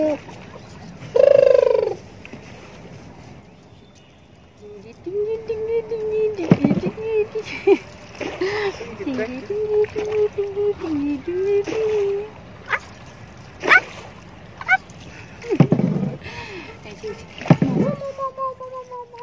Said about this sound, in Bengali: এই যে মাঝি নৌকা চালাইতেছে